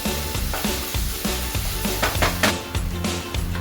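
Tomato and spices fry steadily in a pan with oil for a Bengali tel koi fish curry, giving a loud, close, continuous sizzle with stirring scrapes throughout.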